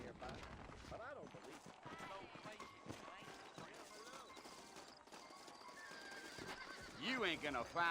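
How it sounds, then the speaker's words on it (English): Horses in the video game Red Dead Redemption whinny and snort while hooves clop steadily, with voices talking over them and a loud burst of neighing near the end. "I got the horses saddled up and ready out front."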